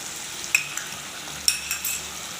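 Turnip and meat curry (shaljam gosht) sizzling in a pan as garam masala is stirred in, a steady close sizzle with two sharp spoon knocks against the pot and soft stirring scrapes, no talk.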